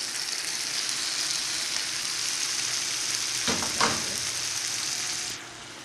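Saltfish and tomatoes frying in a pan give a steady, close sizzle with a brief burst of louder crackle near the end, then the hiss drops away abruptly.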